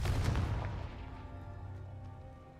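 Confringo fire spell cast in Hogwarts Legacy: a sharp, punchy blast at the start followed by a low rumbling tail that gradually fades over a couple of seconds.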